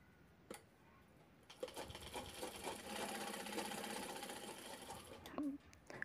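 A domestic sewing machine stitches a zip onto a fabric bag, its motor building into a steady, close whirring run for several seconds before stopping, after a few quieter handling noises at the start.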